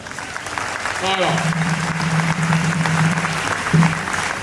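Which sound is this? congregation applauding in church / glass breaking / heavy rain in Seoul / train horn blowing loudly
congregation applauding in church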